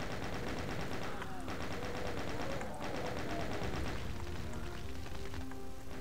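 Rapid gunfire rattles steadily through the whole stretch in the Crate Expectations shooting game, dense repeated bursts with a few sharper cracks and no pause.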